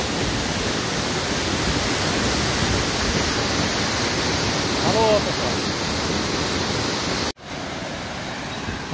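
The Curuá waterfall roars with a loud, steady rush of falling water, and someone speaks briefly over it before the sound cuts off abruptly near the end.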